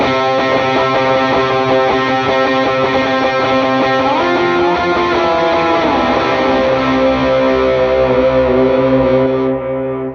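Distorted electric guitar with chorus effect plays an octave rhythm part centred on C as a worship song intro, loud and sustained, with ringing repeated octaves that fade out at the end.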